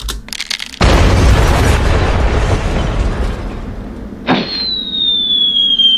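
A sudden loud blast erupts into a long rumbling roar, followed by a sharp impact and a high ringing tone that lingers.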